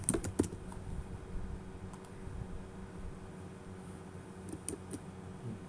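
Soft keystrokes on a computer keyboard, a few quick bursts of typing at the start and again near the end with quiet pauses between, close but faint over a low room hum.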